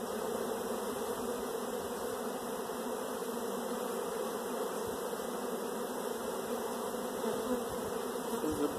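Honeybees buzz during a brood nest hive inspection, a dense, continuous hum of many insects close by, steady across the whole stretch with no talking.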